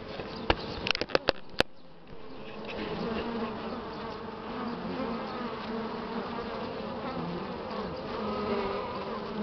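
A dense, steady buzz of many honey bees flying close around a hive carrying pollen on a warm spring day, with a few sharp clicks at the start.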